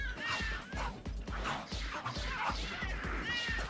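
In the video game Tokyo Jungle, a cat lets out several repeated yowling meows in quick succession, rising and falling over a pulsing beat of game music.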